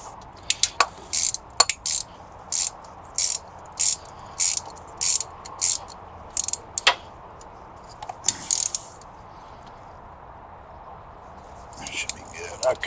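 Ratchet wrench tightening a reinstalled drain plug on an engine during a Trailblazer SS rebuild: a series of close, crisp ratcheting bursts in short regular strokes, pausing, then a few more strokes near the end.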